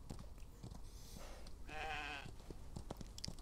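A sheep in the Western video game Outlaws of the Old West gives one clear wavering bleat amid soft in-game clicks and thuds, close and moderately loud.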